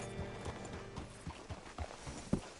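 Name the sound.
horse hooves in a video game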